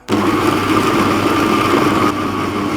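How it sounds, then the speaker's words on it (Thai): An electric mixer starts abruptly and runs with a steady, buzzing whir, loud and close, blending minced pork paste with seasonings, dipping slightly near the end as it keeps blending. "เสร็จแล้วก็เราทำการปั่นให้รวมกันได้เลยครับ"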